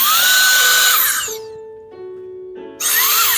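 A cordless compressed air duster, not fully charged, runs unevenly: a loud high-pitched whirring blast drops off into a low, wavering hum, then suddenly surges back to full power.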